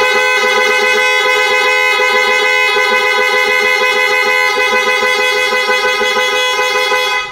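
Horn of a Binelli Panarea 125 motorcycle blares in one loud, steady sustained honk lasting several seconds, close by and alone, then cutting off abruptly.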